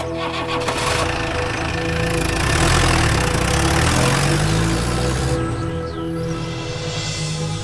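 A tractor engine idles loudly and steadily nearby, a continuous low chugging drone with no voices.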